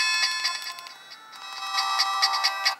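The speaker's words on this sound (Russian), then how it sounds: "Тут всего лишь 5 стандартных мелодий, можно выбрать свои." A standard ringtone melody plays on a Philips E106 mobile phone: a quick series of high, beeping electronic notes in a repeating pattern, close and clear with no talk.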